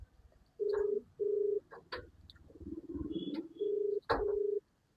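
A telephone call is dialed and rings: several evenly spaced ringback tones sound over faint room noise, with brief clicks and a short burst of noise between them.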